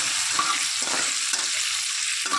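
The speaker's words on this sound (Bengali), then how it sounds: "দিয়ে এবার আলুটাকে ভেজে নেব।" Potato pieces seasoned with turmeric and salt fry in hot oil, giving a steady, close sizzle with faint scraping or stirring sounds throughout and no talking.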